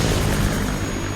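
A helicopter takes off in the Resident Evil Requiem video game, a loud, dense, steady engine-and-rotor roar filling the short moment without a break.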